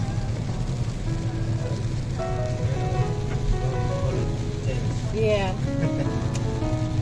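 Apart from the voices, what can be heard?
rain falling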